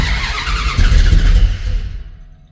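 A 440 engine in a Dodge Coronet fitted with Holley EFI and HyperSpark ignition cranking on its first key turn, with a loud, close, rough churning rumble that swells briefly and then fades out without catching.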